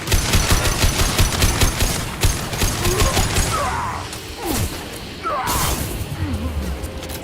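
Enemy gunfire in Mass Effect 2, rapid repeated shots in a fast rhythmic burst at first, then scattered impacts and whooshing combat noise, loud and close with little speech.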